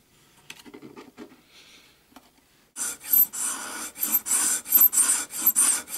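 Uilleann pipes cane reed being scraped with a hand scraper on a scraping bench: a few faint taps first, then steady, loud, close rasping strokes in a quick rhythm, with no voice.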